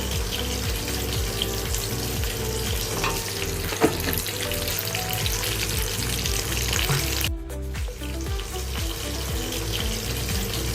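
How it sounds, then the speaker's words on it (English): Two large onions sautéing in a pan make a steady, loud sizzle throughout, with a brief dip near the end and no talking. "I will let that saute for a few minutes until it turns to golden brown."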